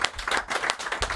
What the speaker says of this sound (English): Give him a round of applause anyway, everybody.